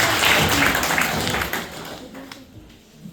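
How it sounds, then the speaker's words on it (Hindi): An audience applauds after a speech, a dense burst of clapping that is loud at first and then fades over a few seconds. "जोरदार तालियां बजाएं।"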